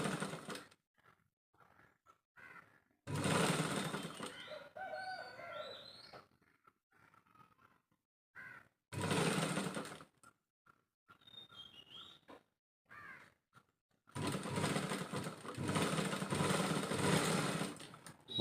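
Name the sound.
sewing machine stitching a princess-cut blouse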